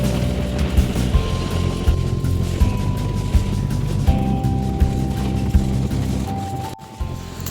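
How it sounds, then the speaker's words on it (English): A vehicle drives over a bumpy, potholed road with a steady loud engine and road rumble. Periodic thuds and knocks come from metal hive stands shaking in the load. "the hive stands made of metal shake a lot because the road has a number of potholes and is a bit bumpy"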